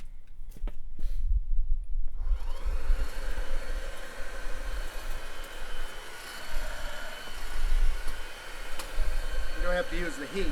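Forced air blowing into a charcoal forge with bricks stacked on top: a steady, close rushing whoosh that starts after a couple of quiet seconds with a few clicks and continues evenly.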